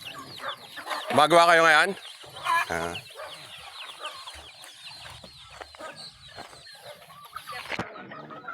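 Native chickens and young chicks cluck and cheep close by on a Philippine farm, with a loud burst of calls near the start and scattered peeps throughout while someone talks over them.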